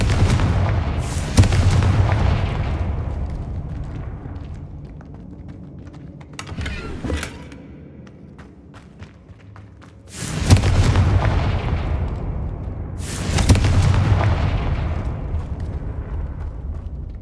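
Explosive spells are cast in the Hogwarts Legacy video game, producing loud, deep booms in separate bursts with rumbling decays. Quieter crackling fills the gaps between them.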